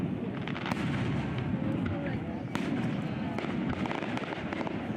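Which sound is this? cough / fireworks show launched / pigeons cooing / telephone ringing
fireworks show launched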